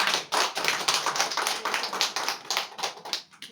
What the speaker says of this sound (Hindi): आइए हम इस वचन के लिए जोर से ताली बजाएंगे